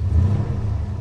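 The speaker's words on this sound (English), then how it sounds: "give a little bit of gas" Car engine on an older OBD1-era vehicle given a light blip of gas, a low steady rumble close by with a slight rise in revs, no talking.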